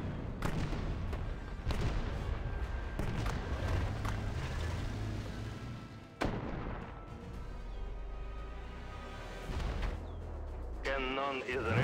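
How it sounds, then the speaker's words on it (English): S-51 howitzer artillery firing in the mobile strategy game WWA RTS, heavy booming shots with rumbling tails amid continuous battle noise, while voices speak over the action. "Load, aim, fire."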